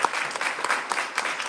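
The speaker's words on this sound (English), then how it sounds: "Big round of applause." An audience at a safety summit claps together, a brisk, dense round of applause with a few sharper individual claps standing out, loud and close throughout.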